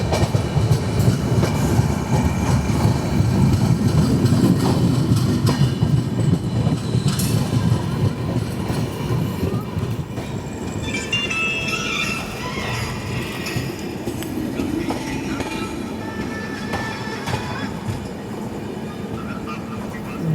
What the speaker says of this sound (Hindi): 10:05 पर हमारी ट्रेन पहुंची है लासूर।